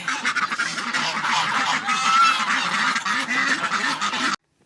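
A noisy flock of farmyard geese honking continuously at close range, overlapping calls without pause.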